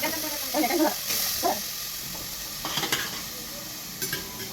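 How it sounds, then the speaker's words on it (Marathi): A tadka sizzles loudly in a pan for a village-style country chicken meal, hissing and crackling continuously while it is stirred with scraping strokes. Faint voices come through early on. "तडका दिलाय तडका"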